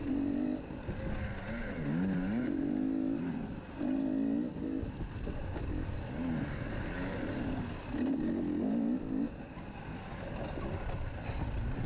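An off-road race vehicle in an SXCS Super Senior C round at Whispering Willow labors uphill, its engine droning loud and close with repeated rising and falling pulls in pitch.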